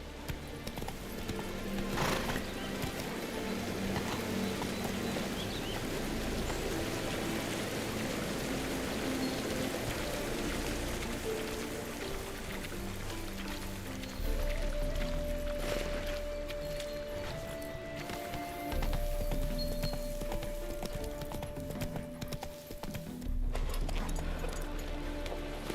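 Horse galloping in The Witcher 3, a steady rhythmic clip-clop of hooves with an occasional whinny, running continuously over background game music.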